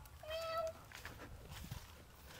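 A cat gives one clear, fairly close meow over quiet outdoor background noise, with faint voices around it.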